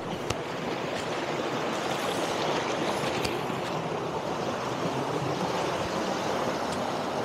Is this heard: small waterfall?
yes